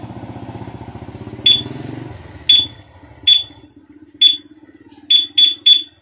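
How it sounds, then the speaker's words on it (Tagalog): A Z200 car alarm chirps in short, sharp beeps: three evenly spaced ones, then a quicker burst of three, cutting cleanly over a low idling engine rumble. "Tumunog ng tatlo. Confirmation yun na nakasilent na yung alarm natin."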